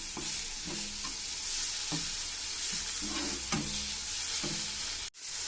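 Crab omelette ingredients sautéing in a pan for a Thai-style seafood dish, a steady sizzle with repeated spatula scrapes and stirring knocks at close range, then a brief drop near the end.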